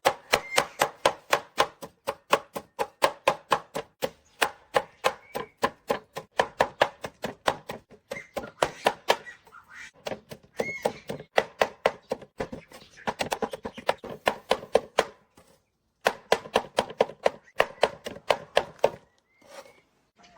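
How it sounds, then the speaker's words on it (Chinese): Cabbage leaves chopped for chicken feed, a rapid run of sharp knife thuds on a board, close and rhythmic in fast bursts with short pauses between, no voices. "剁點白菜葉加飼料餵小雞"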